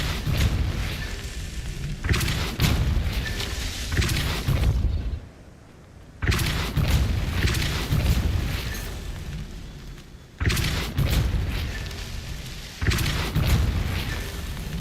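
Repeated heavy booming blasts of a force-push spell in the Hogwarts Legacy video game, several loud broadband bursts in sequence with brief quiet gaps between them and no talking.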